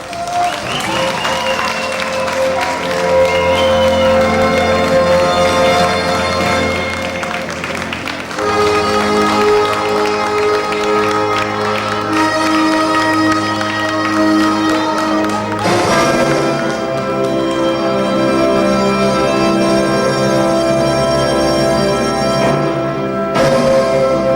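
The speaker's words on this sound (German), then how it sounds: "Und deshalb nun bitte mit viel Applaus und Fanfaren unsere 3 Gewinner!" Loud, sustained applause with cheering fills a shopping centre hall as three winners are called up at a 1997 Hollywood-themed stage show in Vienna's Zentrum Simmering, with dense music-like tones running underneath throughout.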